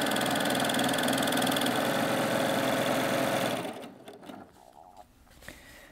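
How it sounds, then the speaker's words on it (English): A Baby Lock Primo coverstitch machine running fast and steady as it sews a triple cover stitch, a close mechanical whir for several seconds before it stops and quiet handling noises follow. "let's go ahead and sew the triple cover stitch now"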